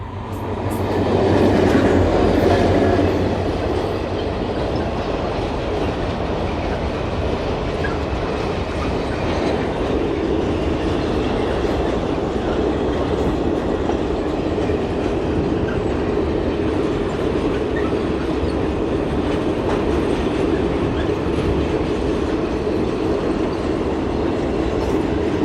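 A passing train rolls by loudly and close for a long stretch, with the steady clickety-clack of railway cars over the tracks and a continuous rumble, with no voices.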